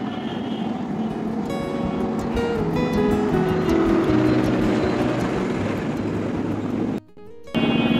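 Heavy vehicles roll along the service lanes beside an overpass construction site on the Dhaka–Rangpur highway at Pirganj: a loud, steady engine roar and rumble with rising horn-like tones, briefly cut off near the end.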